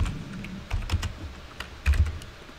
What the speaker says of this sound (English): And then typing dir again